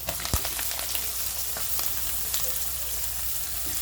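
Onions fry in a pan for a cabbage bhaji, a continuous soft crackling sizzle with a sharp clink near the start and light stirring sounds.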